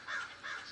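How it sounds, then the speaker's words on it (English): A large crow gives two quick, harsh caws in succession, close and clear, in damp evening air by a stone balustrade outside a hospital entrance. "a large crow landed on the stone balustrade 10 feet away"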